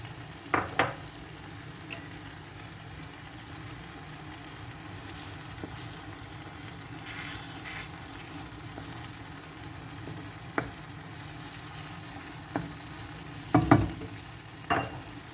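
Eggs cooking into a frying Turkish breakfast dish in a pan, with a soft, steady sizzle under a few sharp utensil knocks and scrapes scattered through.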